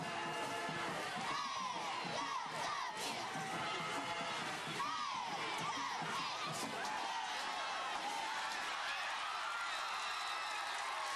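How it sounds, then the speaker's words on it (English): A big crowd of football fans in the stands cheers, shouts and whoops in loud overlapping waves, sounding rowdy and continuous, with young voices among them. "Hounds fans have some crazy traditions, but they also help power the team to victory with their cheering"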